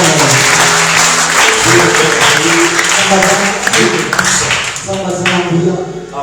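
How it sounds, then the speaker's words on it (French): A church congregation applauds, dense continuous clapping filling the room at high volume, with voices and a faint musical tone mixed beneath the claps. "acclamons d'abord Jésus"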